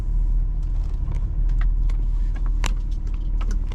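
A 2008 Hummer H2 with a 6.2 engine rumbles steadily at low speed as it noses into a parking spot, with a deep constant engine drone and light clicks and rattles inside the cab.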